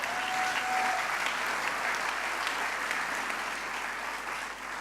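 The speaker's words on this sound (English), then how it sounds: "Give a round of applause if you've ever heard of those." Audience applause at the FameLab Australia national science communication final: a hall full of people clapping steadily for about five seconds, moderately distant and even, easing slightly toward the end.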